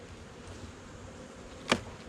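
Honey bees from a young backyard colony hum steadily at the hive box, with one loud bee zipping close past the ear for a brief moment before the buzzing settles back to a low drone.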